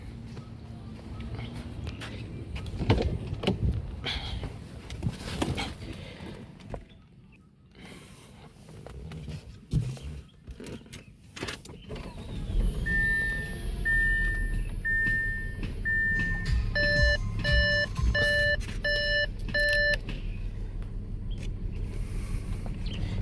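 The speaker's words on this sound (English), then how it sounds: "Let's start the engine." An Audi 3.0T supercharged V6 with burnt valves cranks and fires up, then settles into a steady, uneven running drone with a misfire, heard up close alongside clicks, handling noise and a series of electronic dashboard beeps.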